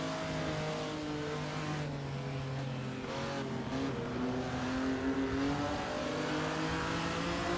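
Ferrari 250 Testa Rossa race car engine in a racing video game, droning and revving with shifting pitch, with other cars' engines blending in the background.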